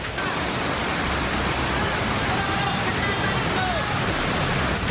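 Heavy rain pours down during a flash flood in Padang, making a loud, dense, continuous wash of water noise with no break.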